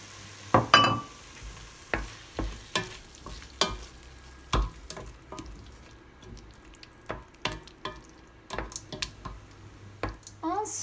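Tomato purée is stirred into a pot of Algerian chorba soup, a soft sizzle broken by repeated wet squelches and spoon scrapes in an uneven rhythm, close by, with a voice speaking.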